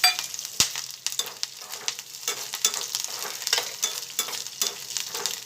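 Green chilies go into hot oil with crackling cumin seeds. A sharp pop opens the sizzle, then steady close frying with irregular crackles and spits follows.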